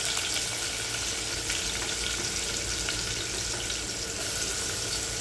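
Garlic and onion frying in a pan, a dense, even sizzle that holds steady throughout with faint crackles, close and without speech.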